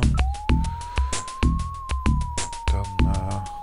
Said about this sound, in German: zur Sicherheit schalte ich mal die Sirene an.